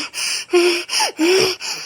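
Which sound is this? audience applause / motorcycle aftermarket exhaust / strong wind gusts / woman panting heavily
woman panting heavily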